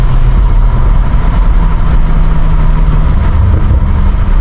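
A BMW M5 Competition rumbles on a late-night drive, its exhaust giving a loud, continuous low drone with engine and road noise throughout.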